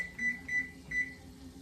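An oven timer gives three short, fairly quiet electronic beeps at an even pace as it is set for five more minutes, in a kitchen where salmon is cooking at 450 degrees.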